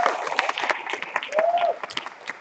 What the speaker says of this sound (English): let's give our debaters a big round of applause